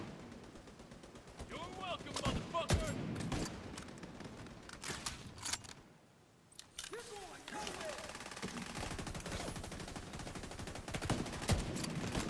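Video game gunfire from The Division 2: repeated sharp rifle shots and bursts scattered across the scene, loud and close, with a short lull around the middle.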